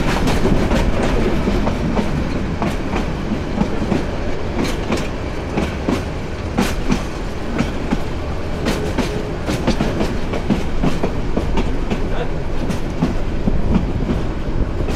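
The Meghna Express rolls into Chittagong railway station platform with a loud, continuous rumble and rapid clickety-clack of wheels over rail joints, close by and unbroken throughout.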